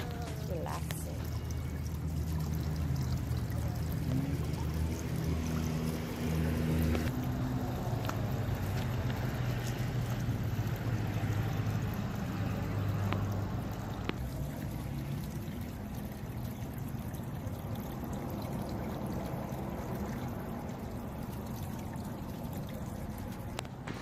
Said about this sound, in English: Look at the beautiful fountain. I like the sound of it.